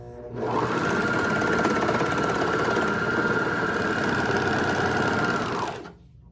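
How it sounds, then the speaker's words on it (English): A serger overlocks the corners of a simple tote bag, trimming as it stitches, with one loud, steady mechanical whir running close and unbroken for several seconds before it stops. "now I'm just going to serge those"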